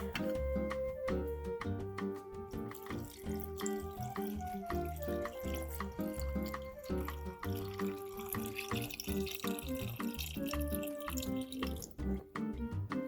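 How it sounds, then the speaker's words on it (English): Water pours steadily into a rock tumbler barrel for about thirteen seconds, a continuous splashing stream with shifting hollow resonant tones as the barrel fills, close and fairly loud. "I'm going to add some water to this barrel."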